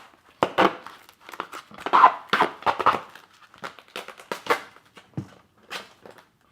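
Duct tape crackles and rips in repeated short bursts as strips are torn and wrapped around a handmade dog bed of noodles, close and fairly loud with brief pauses.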